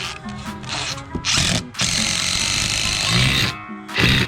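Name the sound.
screws driven into aluminum deck post with power drill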